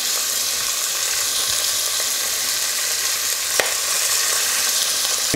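Beef pieces for goulash sear in a hot pot with a steady, dense sizzle, close and fairly loud, broken by one brief click and no talking.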